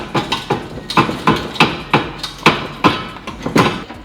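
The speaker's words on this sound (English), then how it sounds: "we're gonna need to massage it with a hammer" Sharp metal hammer blows strike a stubborn BMW E30 steering rack to free it from the car, about ten loud, close, evenly spaced knocks with no talk.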